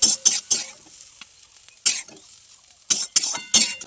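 Slices of bitter gourd fry in oil with salt and turmeric in a home kitchen, giving bursts of sizzling and spatula stirring that come in irregular clusters, close and fairly loud, with no talking.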